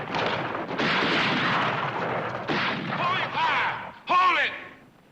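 Gunfire in a western shootout from a television drama, booming shots mixed with shouting voices, loud and close, with a burst of yelling near the end.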